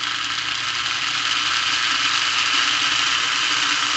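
A Lionel plastic Scout toy train motor, its brushes and commutator freshly cleaned, runs at slow speed with a steady, close electric whir and hum that never lets up.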